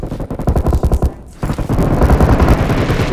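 Automatic gunfire in the mobile game PUBG Mobile: loud, rapid bursts of rounds, a brief pause, then another sustained burst.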